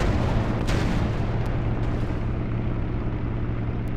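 Dense, continuous rumble of booming bomb blasts in a WW2 dogfight video game, with deep low-end roar, one sharper burst early on, steady and loud throughout with no voices.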